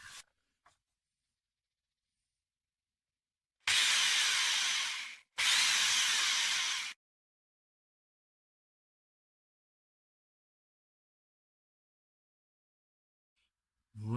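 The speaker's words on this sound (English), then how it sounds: "Where's my drill?" A power drill bores holes into the wood of a workbench in two close, sharp bursts of about a second and a half each, with near silence before and after.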